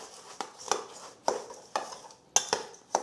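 Buttered Ritz cracker stuffing is spooned onto lobsters, a series of light clinks and scrapes of a spoon against a dish at an uneven rhythm, close and quiet.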